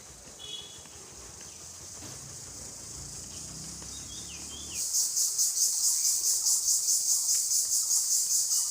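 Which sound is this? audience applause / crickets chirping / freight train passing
crickets chirping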